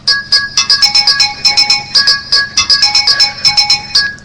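A bright electronic phone ringtone plays loud and close, a bouncy repeating melody of short chiming notes with a steady rhythm and no talk over it.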